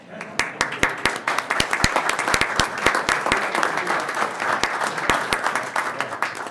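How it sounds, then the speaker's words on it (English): Applause at a city commission meeting, with a crowd of hands clapping steadily and sharp individual claps standing out close by throughout. "I think it's plenty fine we clap after each one"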